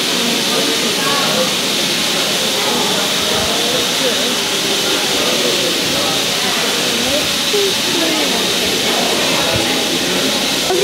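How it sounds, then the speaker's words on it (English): Steam locomotive 76079 on the North Yorkshire Moors Railway hissing steam with a steady, dense broadband wash throughout, its engine working close by while faint voices murmur underneath. "That steam, and listen to the sounds of the engine."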